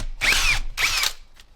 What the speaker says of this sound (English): Now we had to drill a mounting hole in the top of the transmission casing.